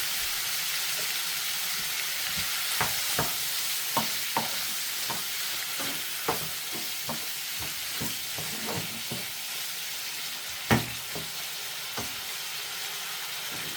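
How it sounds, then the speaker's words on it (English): Seafood sears in a pan for paella, cooked outdoors on a boat, with a steady hiss of frying broken by frequent sharp taps and scrapes of stirring; no one speaks. "let's sear the seafood to lock in all its flavors"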